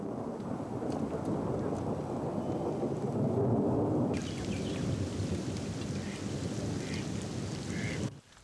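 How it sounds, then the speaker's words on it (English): Spring thunderstorm over the Everglades, with steady rain hissing on surfaces and a long low rumble of thunder, continuous and fairly close before cutting off at the end. "With the arrival of spring rains"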